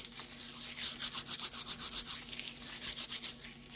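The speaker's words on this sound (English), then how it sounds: "rub it in my hands" Dry raffia being rubbed between hands while crafting a Christmas decoration: a soft, continuous rustling and scratching, close and quiet, with no talk over it.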